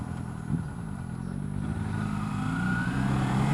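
A 2012 Kawasaki Ninja 250 motorcycle engine hums steadily, then its pitch climbs as it accelerates through gear shifts, a smooth rising drone close to the microphone.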